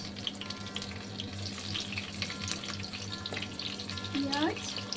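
Onions frying in hot oil after a spice tempering for a Bengali chili kofta curry, a steady close sizzle with faint crackles and a brief scrape near the end, no talk.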